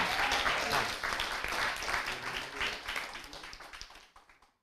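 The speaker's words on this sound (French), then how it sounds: "J'aimerais qu'on l'applaudisse encore, s'il vous plaît." An audience applauds at the final of a 24-hour eloquence contest in Le Mans. The clapping is full and close at first, then thins out and fades to silence near the end.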